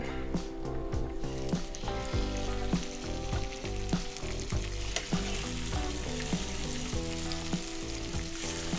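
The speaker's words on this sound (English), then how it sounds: "So we're gonna sear this for maybe 2 to 3 minutes on each side." Food sears steadily in extra virgin olive oil in a hot pan, a dense continuous sizzle with occasional sharper crackles and pops throughout, close and fairly loud with no talking.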